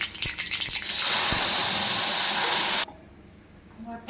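Tamarind water poured into a hot rasam tempering hisses and sizzles loudly at close range for about two seconds, a steady steamy rush that then cuts off abruptly, leaving faint crackling.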